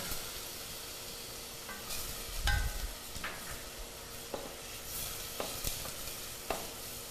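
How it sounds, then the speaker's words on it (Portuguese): Grated onion and garlic sauté gently in a pan on the stove, giving a steady, quiet sizzle with occasional scrapes and knocks of stirring, and no talking. "Um pouquinho de cebola que tá ralada e um pouquinho de alho."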